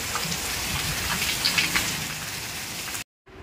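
Steady rain patters and hisses on surfaces, dense and close, before cutting off abruptly near the end.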